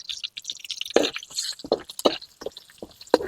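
Curry leaves and green chilies dropped into hot cooking oil, giving a few sudden wet pops and spits over a soft crackling background, close by.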